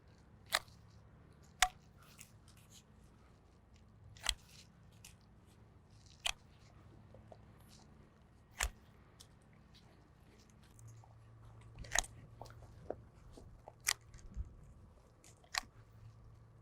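Pruning shears snap through fruit tree branches in a series of sharp, isolated clicks and cuts spaced a second or two apart, fairly close, over a low steady background murmur.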